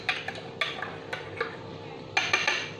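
A spoon clinks repeatedly against a bowl while baking soda is stirred into a cup of warm milk, sharp metallic taps arriving in an uneven rhythm, close and clear.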